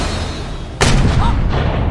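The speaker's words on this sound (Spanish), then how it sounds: "De repente se escuchó un fuerte disparo que resonó en toda la cueva." A loud pistol gunshot cracks sharply inside a cave, then booms and reverberates for about a second afterward; scene from Pirates of the Caribbean.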